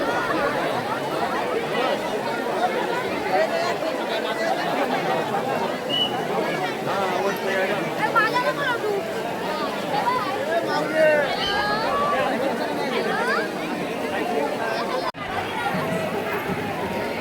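Crowd chatter at Ekvira temple, a dense and steady babble of many voices with scattered louder calls, close by and continuous.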